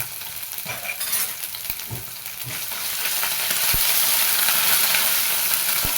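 Ginger, garlic and green chili paste sizzles and fries steadily in hot oil, with occasional spoon stirs and scrapes against the pan, growing slightly louder toward the end with no one speaking.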